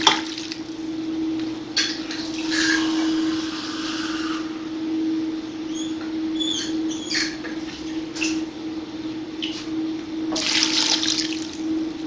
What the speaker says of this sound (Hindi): 2 गिलास मैं इसमें पानी ऐड कर रही हूँ।